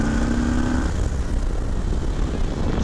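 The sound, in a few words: Harley Davidson Lowrider S motorcycle engine on test ride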